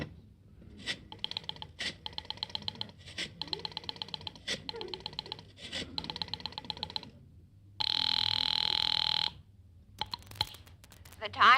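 An old-time radio comedy telephone rings after dialing, with rapid clicks of a rotary dial, then repeated bursts of a bell ring, and a long steady tone near the end.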